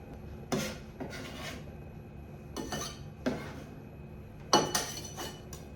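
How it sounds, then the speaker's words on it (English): Knife slicing through onions on a cutting board, a few separate crisp strokes and taps spaced irregularly, near and moderately loud in a quiet kitchen. "Let's go ahead and cut these onions up."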